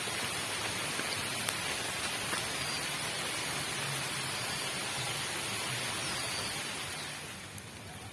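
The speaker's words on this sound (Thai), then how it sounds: "ฝนตกแล้วนะ" Steady rain pours down outdoors during a fishing outing, a dense, even hiss of drops on surfaces that holds level throughout and eases slightly near the end, with no one speaking.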